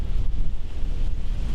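Steady wind roars and buffets through the woods on a cold Pennsylvania hillside during deer season, a continuous low rumbling gust hitting close to the microphone.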